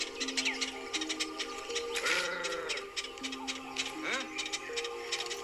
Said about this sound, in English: the person does this sort of trill and a grunt. And then at the end, the bird kind of gives them a sort of chattering sound.